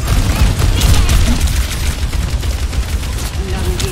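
Gunfire from Ashe's rifle in the video game Overwatch 2, with repeated shots cracking loudly amid dense battle noise and low rumbling booms, close and continuous.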